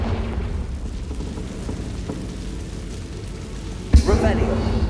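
A fire-blast spell from Hogwarts Legacy bursts with a sudden explosive boom near the end, after a stretch of crackling, rain-like ambience and a spoken voice.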